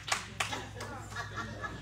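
Church congregation clapping hands during a lively worship service, a few sharp claps standing out near the start and then softer scattered clapping continuing under a faint background hum.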